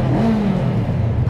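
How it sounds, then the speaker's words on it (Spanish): A Voge 525 R motorcycle's exhaust drones and booms inside a tunnel, a steady, loud, low engine rumble with a slight rise in pitch, heard alone without talking. "Mientras vas en marcha, también el escape se escucha muy bien."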